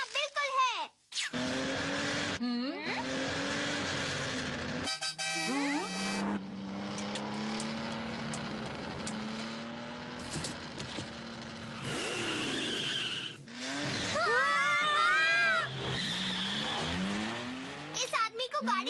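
Cartoon car driven recklessly in a Hindi-dubbed Doraemon episode, with squealing tires, skids and a revving engine that rise and swerve through the scene, overlapped by excited character voices.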